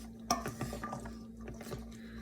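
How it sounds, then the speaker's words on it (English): A spoon stirs pasta salad in a bowl, giving a short run of soft scraping and clinking close by over a steady low hum. "Stir that around a little bit."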